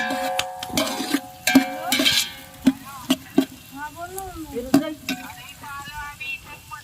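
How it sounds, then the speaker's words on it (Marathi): Onions sautéing in hot oil on a village wood-fired stove for mutton curry, sharp repeated scraping clinks of a spatula against the pot over a soft sizzle, with faint voices in the background. "कांदा टाकलेला आहे कांदा परतायचा"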